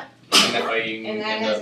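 A single sudden sneeze bursts out loudly during a maths lesson on double angle equations, and a voice keeps talking right through and after it.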